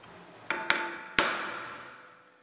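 Three sharp metallic hammer blows strike a center punch set into a screw, close and ringing, each strike decaying briefly, the last the loudest.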